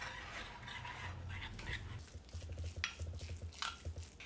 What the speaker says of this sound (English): I'm gonna stir that around.